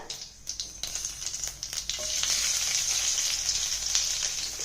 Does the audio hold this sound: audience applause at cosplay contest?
no